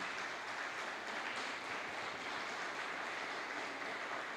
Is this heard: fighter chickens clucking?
no